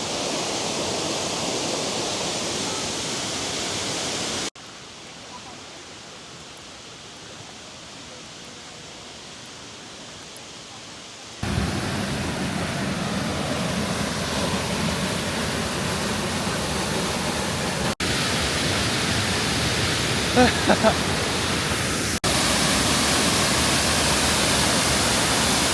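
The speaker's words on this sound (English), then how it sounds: "And now we're seeing a bunch of waterfalls." Steady rushing waterfalls at Doi Inthanon, Thailand, a broad continuous roar like falling cascades that drops to a quieter hiss for a few seconds before surging back.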